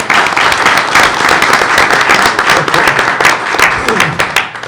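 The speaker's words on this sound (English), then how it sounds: "Let's give them another round of applause." A room of people at a regular board meeting breaks into sustained clapping, a dense patter of hands that stays loud and even throughout with no pause, a few scattered voices faint underneath.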